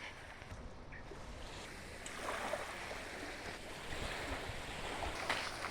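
Waves wash onto a beach on Koh Phangan, Thailand, a constant rushing surf that swells a little louder partway through, mixed with wind buffeting the microphone.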